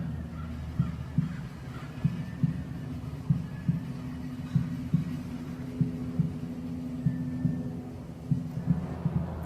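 A heartbeat sound effect in an art piece about a woman arriving in the city, with a fast, steady thumping pulse under a constant low hum, continuing evenly throughout.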